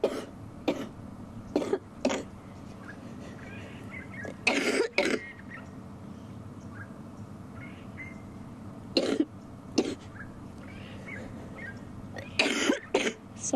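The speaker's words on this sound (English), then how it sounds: "I am desperately trying not to cough." Scattered coughs and throat clearing over a quiet background, coming singly and in short clusters at irregular intervals, close to the microphone.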